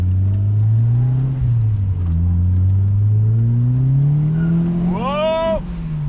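A Series 1 RS Turbo accelerates hard along a B road, its loud engine droning and climbing in pitch, dipping briefly at a gear change in the slushy gearbox, then rising again to a high whine.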